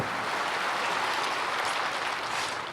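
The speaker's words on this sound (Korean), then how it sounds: "하나님께 영광의 박수 올려주시기 바랍니다." Church congregation applauding to give glory to God during a Sunday worship service, a thick, uniform roar of many hands clapping that continues without a break.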